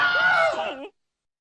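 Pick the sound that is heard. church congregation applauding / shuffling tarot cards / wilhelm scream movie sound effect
wilhelm scream movie sound effect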